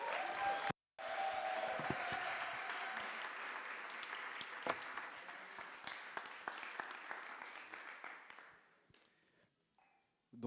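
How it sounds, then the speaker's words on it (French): Audience applause at a Paris data science demo day, a dense burst of clapping that holds steady for several seconds, then thins out and fades to scattered claps. "Un tonnerre d'applaudissements pour Léonard, Édouard, David et Raphaël."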